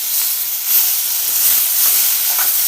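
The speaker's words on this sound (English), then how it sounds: "So fry these tomatoes along with the small onions and curry leaves." Tomatoes, small onions and curry leaves frying in a pan for fish curry, a loud, dense, steady hiss of sizzling oil, close and continuous with no talk.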